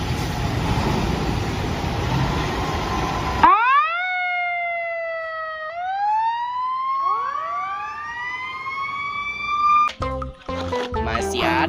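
Toy fire truck with an emergency ladder, its electronic siren wailing in rising and falling sweeps after a burst of hiss, loud and close, ending in clattering handling noise.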